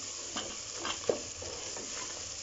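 Spices being stirred into karela gosht in a pot, with a few soft scrapes and a sharp clink against the metal over a quiet frying hiss.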